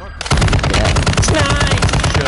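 Rapid automatic gunfire in the video game Warzone 2.0, a loud, dense burst of shots starting abruptly and continuing without pause, close and dominant.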